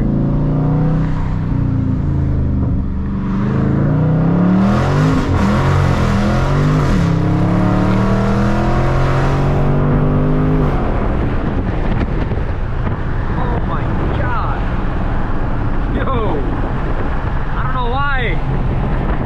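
A widebody Dodge Charger Scat Pack pulls hard on an Atlanta city street, its engine note climbing in rising harmonic sweeps for about ten seconds over wind buffeting, then settling into road rumble as someone talks.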